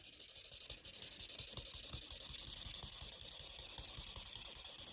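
A Copic marker's chisel nib rubs across paper in quick, steady back-and-forth strokes, a close, continuous scratchy swish with a fast regular rhythm and no talking.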